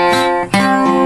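A short phrase from bar six on acoustic guitar: one ringing chord, a brief pluck, then a second chord left sustaining, close and bright.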